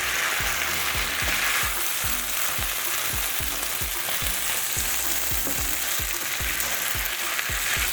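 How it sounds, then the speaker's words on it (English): Vegan pasta frying and being stirred in a single pot, with a steady sizzle and a rhythmic series of stirring scrapes about twice a second, close and continuous with no talk. "I'm gonna just keep stirring that around, and then I add my pasta to that."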